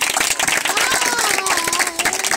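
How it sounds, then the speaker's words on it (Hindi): A church congregation claps in quick, uneven bursts while a voice carries on over the clapping throughout this short stretch. "इनके लिए तालियां बजाइए।"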